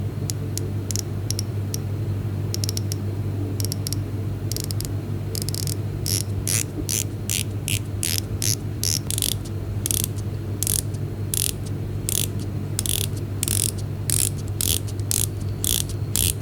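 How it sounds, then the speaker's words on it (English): Rapid mechanical clicking in bursts of ratchet-like ticks, close and crisp, as a dive watch bezel on a Casio Duro or Titan Octane Hyperlume is turned repeatedly over a steady low hum. "Let's hear the ratcheting of the bezels."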